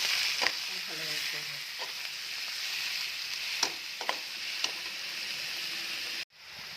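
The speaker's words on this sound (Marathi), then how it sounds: "वाफवलेली मेथी टाकत आहे." Steamed fenugreek leaves hitting hot oil with fried garlic and green chili tempering, a steady soft sizzle with a few sharp clicks of a spoon against the pan, ending in an abrupt cut.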